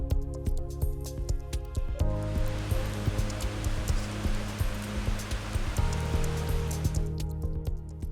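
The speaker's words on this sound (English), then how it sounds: "you actually get to get pretty close to the waterfall" A waterfall on the Genesee River in Letchworth State Park roars steadily up close, a dense wash of crashing water that fills the whole clip without a break.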